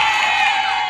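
An audience at a lively religious gathering breaks into brief, dense cheering and clapping, a loud steady wash of crowd noise with no pauses.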